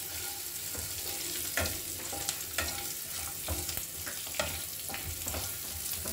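Whole spices, cinnamon among them, roast in butter in a pan as a soft, steady sizzle broken by repeated scraping stirs and small clacks of a spoon, close but fairly quiet, with no talking.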